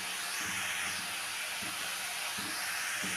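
Banana flower (mocha) frying with salt and turmeric in a pan: a steady, close hiss of sizzling oil with faint, soft bumps of stirring now and then.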